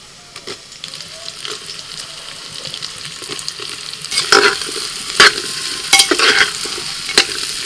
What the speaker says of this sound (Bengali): এবার পেঁয়াজ আলু দু মিনিট ভেজে নেব